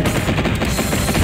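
Explosions in the Dreamcast robot fighting game Tech Romancer: a dense, loud rattle of blasts and gunfire-like bursts fills the whole short stretch without any pause.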